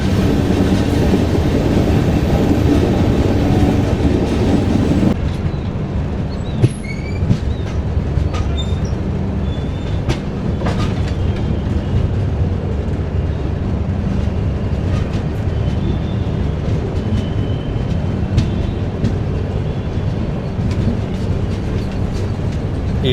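A Humsafar weekly express train on the Srikakulam Road to Tirupati route runs past near Tirupati, a loud, close, continuous rumble and clatter of wheels with scattered squeals and no voices.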